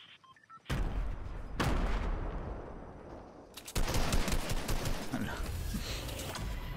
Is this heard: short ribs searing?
no